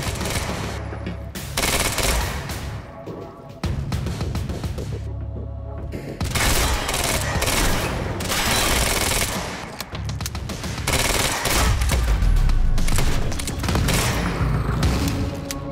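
Dense machine-gun fire and gunshots in the video game Quantum Break, heavy sustained bursts with booming impacts, loud and close, broken by brief pauses.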